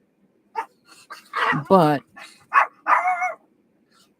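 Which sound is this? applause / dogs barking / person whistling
dogs barking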